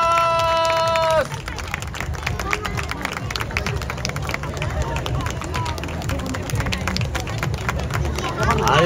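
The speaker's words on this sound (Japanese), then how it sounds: "今一度大きな拍手をお願いいたします" Audience applause after a samba stage performance at the Shinagawa canal festival, with brief music cutting off at the start, then sustained crowd clapping mixed with murmuring voices.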